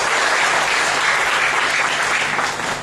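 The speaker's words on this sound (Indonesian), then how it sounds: "Berikan lagi tepuk tangan bagi Tuhan Yesus." Loud, dense applause from a church seminar audience in Timor-Leste, a continuous roar of clapping hands sustained evenly throughout with no talking over it.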